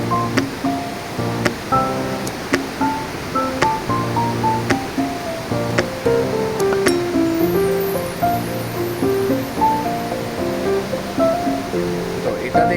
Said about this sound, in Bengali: জলের আওয়াজ হয়তো শুনতে পাচ্ছেন অনেকে।